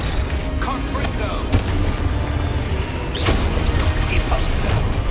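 In Hogwarts Legacy on PS5, a Confringo blast spell goes off as a sharp boom amid dense combat noise, with a second thump a moment earlier and a voice calling out over the clash.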